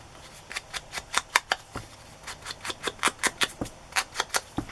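Scissors snip through paper ephemera for a handmade journal in quick close clusters of short crisp cuts. Each cluster holds three to six snips, with brief pauses between bursts.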